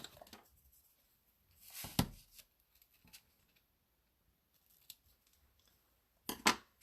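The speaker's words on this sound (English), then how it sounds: "Now I want to trim the end of that off." Scissors trim the end off a ribbon loop while a black-and-white Christmas card is being made, with a few short, crisp snips spaced apart against near silence.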